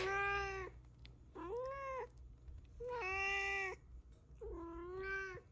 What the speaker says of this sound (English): Is that cat destroying your ears?